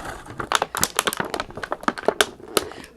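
Plastic and cardboard packaging crinkles and rustles in quick, irregular bursts while a Bluetooth speaker shaped like a gummy bear is unboxed, close and fairly loud with no talking.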